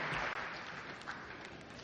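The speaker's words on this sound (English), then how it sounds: "I very much appreciate your applause for me." Steady applause from a crowd, a dense wash of clapping that holds at an even level throughout.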